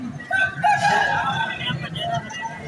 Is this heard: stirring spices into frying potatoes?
no